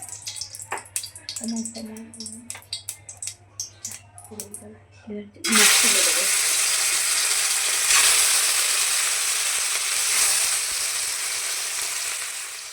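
Snakehead fish fried lightly in hot oil in a kadai: after clattering handling sounds and talk, a loud bright sizzle bursts in as the fish hits the oil and continues steadily.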